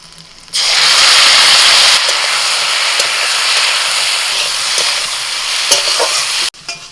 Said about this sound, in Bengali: রসুন আর কারি পাতা ভাজা হয়ে গেছে এবার এই যে সিক্সটি ফাইভগুলো দিয়ে দিচ্ছি